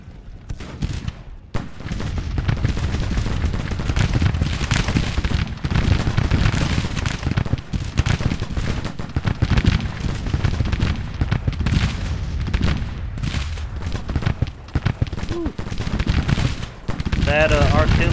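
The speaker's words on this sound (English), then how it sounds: "That artillery is messing them up, sure." Civil War video game battle with artillery and rifle fire, dense continuous booms and crackling shots rumbling throughout at high level, with a voice talking over the fighting.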